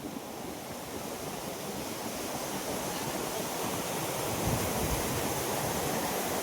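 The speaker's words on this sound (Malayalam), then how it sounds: "ആ വെള്ളം വന്ന് നല്ലൊരു കുത്തായിട്ട് താഴത്തേക്ക് ചാടുന്നു" A waterfall fed by hill streams plunges down in drizzling rain, a steady, loud broadband roar of rushing water that continues unbroken throughout, slightly swelling toward the end.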